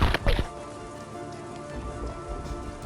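Steady rain pattering on a surface, a dense continuous hiss with a couple of sharper thuds at the start.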